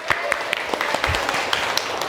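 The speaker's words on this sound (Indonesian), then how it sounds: "Mari kita aplaus buat kita semua." A classroom of students claps for the group presentations, with dense, close, overlapping hand claps forming a short burst of applause.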